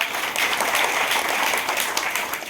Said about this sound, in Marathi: म्हणून जोरदार टाळ्या वाजा